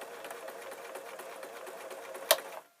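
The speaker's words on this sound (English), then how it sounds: "top stitching as close to the edge as possible" A domestic sewing machine runs steadily while top stitching close to the edge of a fabric tablet sleeping bag, a fast even whirr that ends with a sharp click before stopping.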